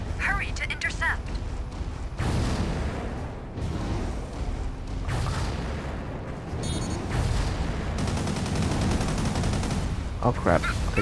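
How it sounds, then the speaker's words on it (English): Mobile suit weapons firing in the Gundam Crossfire video game, a head Vulcan, beam cannon and missiles, loud and dense bursts of gunfire and booms in repeated volleys lasting several seconds. "Head Vulcan, beam cannon, missiles."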